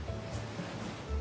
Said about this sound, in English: The waves crash softly on the shore.